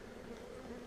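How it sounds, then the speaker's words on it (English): Honeybees buzz steadily at an open hive, a brief, faint, continuous drone without pauses. "The bees are a little bit feisty"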